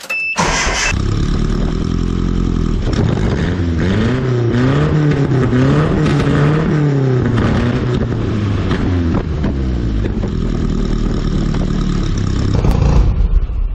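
Datsun engine with a new big exhaust tip starting up, then revving loudly in several rising and falling sweeps before settling back to a rough idle, close and alone without talk.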